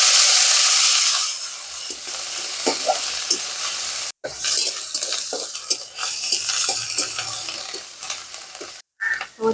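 Onion paste sizzling in hot oil with black cumin seeds in a pan while a utensil stirs and scrapes, giving a loud hiss at first that settles into steady frying with intermittent stirring scrapes and clinks.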